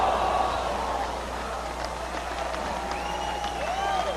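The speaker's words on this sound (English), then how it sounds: "the crowd in Melbourne on their feet for Sabu and Devin Storm" A wrestling crowd in Melbourne cheers and applauds, a loud, sustained roar of clapping and shouting with scattered whistles and voices rising throughout.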